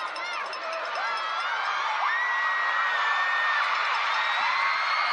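A basketball crowd at a Montana State vs BYU NCAA women's game cheers after a made running floater, a loud, sustained roar of whoops and shrill whistles that carries through to the end.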